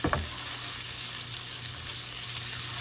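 Vegetables for a Cajun seafood alfredo sautéing in a pan give a steady, close sizzle with a brief clatter at the start, then an even hiss that carries on alone.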